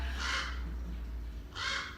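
Two loud, harsh crow caws ring out close by, one at the start and another about a second and a half later, with steady low background rumble between them.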